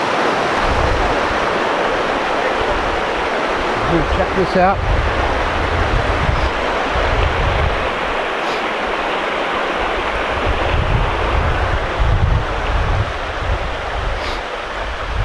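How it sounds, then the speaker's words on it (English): A river rushes steadily along a hiking trail, with a broad, continuous flowing wash under wind buffeting the microphone, and someone briefly speaks over it. "we made it to the river"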